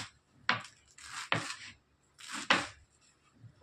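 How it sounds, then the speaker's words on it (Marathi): Spinach being finely chopped with a knife on a board: a few separated, crisp chopping strokes in small bursts with quiet gaps, close and alone without talk. "आता हे बारीक चिरून घेऊन असं बारीक छानसं असं चिरून घेणार आहोत"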